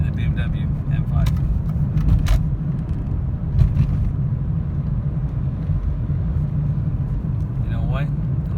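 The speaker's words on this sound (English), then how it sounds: "BMW M5." Low steady engine rumble from a BMW E39 M5, heard from inside the car, with a voice talking over it.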